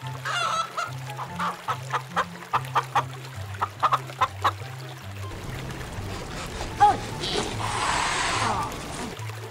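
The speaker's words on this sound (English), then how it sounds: "Chicken." A chicken clucks in a steady series of short, rhythmic clucks over a low repeating musical backing, followed by a louder squawk and a rising flurry of noisy bird sound near the end.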